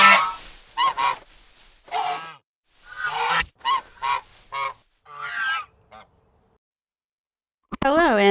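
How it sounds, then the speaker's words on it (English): The Goose Mother honk effect from the MTG Arena game gives a series of loud, close, nasal goose honks in uneven bursts, then a pause and one final honk. "the team really came together to show an absolutely powerful honk"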